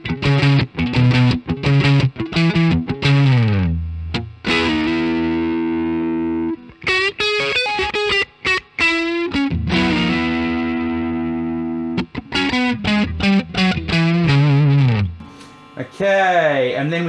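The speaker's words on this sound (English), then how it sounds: "The left hand side of the pedal I've got set for mucho distortion, about as much as I ever would use." Heavily distorted Telecaster electric guitar played through a pedal pushed to high gain, loud chords and sustained ringing notes with bends, phrases stopping and restarting, no talking.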